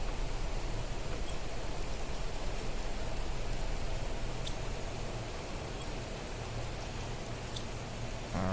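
Steady, dense rain hiss from the survival game Planet Crafter fills the scene, an even wash of patter with no breaks, a few faint high clicks scattered on top.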